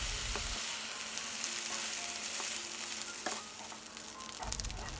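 Rice fries with salted dried fish in a pan, giving a continuous close sizzle broken by scraping and stirring as a utensil moves the grains around.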